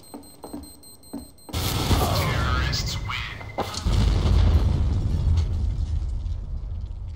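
Grenade blast in CS:GO, a sudden loud boom after quiet, then sustained rumbling and gunfire-like bursts, with voices speaking underneath.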